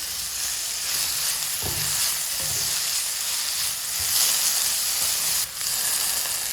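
Thuthi greens with turmeric powder frying in a pan, a steady close sizzle and hiss with a couple of soft stirring clunks, no talk.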